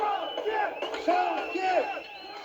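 Protest crowd in Kazakhstan chanting "Old man leave", many voices shouting together in rhythmic calls, loud and slightly distant, with rising and falling cries.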